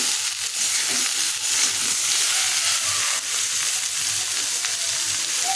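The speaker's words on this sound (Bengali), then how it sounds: "দিলাম সেগুলো দিয়ে নাড়াচাড়া করে দিচ্ছি মশলাটা একটু কষাবো" Spices fry with potato, pointed gourd and prawns in a pan, a loud continuous hiss and sizzle with soft stirring scrapes underneath, close up and with no talking.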